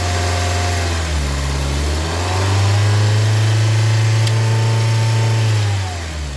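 A Honda Civic 1.7 VTEC engine idles steadily, then its idle note rises and thickens noticeably partway through as a solenoid is energized, holding the higher, stronger hum to the end; close, loud and continuous with no talking.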